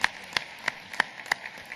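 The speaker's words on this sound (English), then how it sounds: "I just want to give Frank a big round of applause for his help today" Sparse applause for a speaker at the SCAG Economic Summit 2012, with a few distinct claps spaced evenly and fairly faint in a quiet room.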